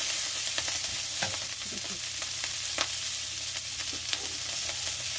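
Vegetables frying in a pan for a Korean vegetable stir-fry, a steady sizzle with scattered crackles and pops and light scraping of a utensil, close and fairly loud.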